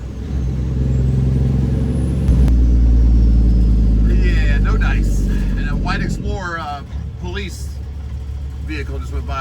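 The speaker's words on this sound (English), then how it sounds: "Vehicle just went by." A vehicle passes on a road near a highway exit, its loud engine rumble and tire roar swelling and fading beneath steady cabin drone as someone talks throughout.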